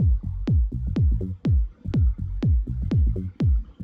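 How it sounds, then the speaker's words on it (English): Punchy bass notes in a steady rhythmic pattern in a minimal house track made in Ableton 12, each hit topped with a gritty, buzzy bitcrusher distortion crunch; loud and alone with no talking. "adds this high-end crunch on top of the bass, which helps it break through the mix"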